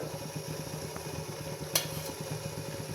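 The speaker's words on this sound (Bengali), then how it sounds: "কড়াটা গরম হয়ে গেছে এবার আমি এতে সাদা তেল দিচ্ছি পরিমাণ মতন" White cooking oil goes into a hot wok while cauliflower masala is being made, producing a steady, close sizzling hiss with a single brief clink partway through.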